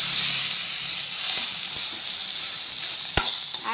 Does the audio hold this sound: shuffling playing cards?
no